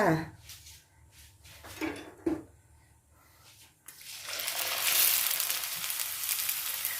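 A pork-filled wonton drops into hot oil at medium heat and bursts into a steady loud sizzle of deep frying, after a quieter stretch of kitchen clatter and a few taps.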